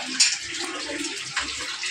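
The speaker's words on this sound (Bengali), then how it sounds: "একটু জল দাও, টিফিন কারিটা করে জল দাও।" Water poured from a tiffin carrier, a short close splashing trickle with a couple of brief gushes, moderately loud, with no voices.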